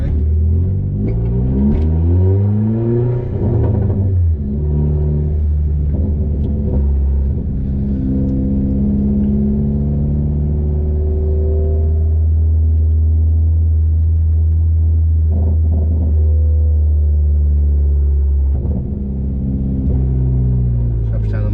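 A Vauxhall Corsa VXR with a 3-inch straight-piped exhaust drones loudly from inside the cabin, rising and falling through repeated revs and gear changes with a deep booming rumble, while people talk over it.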